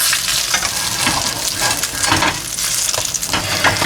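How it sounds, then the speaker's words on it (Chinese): Egg tofu fries in a stainless steel pan, with a dense, steady sizzle and crackle that continues close and loud throughout and no voices. "第一面再煎一下后，翻面准备起锅"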